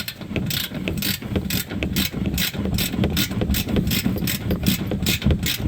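A ratchet spins down an upper control arm bolt on a Dodge Ram 1500, producing a rapid, steady stream of close metallic clicks that runs continuously for several seconds.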